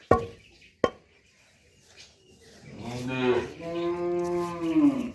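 A couple of sharp thuds, then cattle on a farm moo nearby in long, drawn-out lowing calls that rise and carry on to the end.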